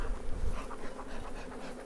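Steady, dense buzzing of many honeybees close by while hives are split, a continuous droning hum with slight swells in loudness and no voices.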